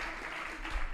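Audience applause for a guest named Brigitte on a French show, a brief steady wash of clapping with a slight swell near the end.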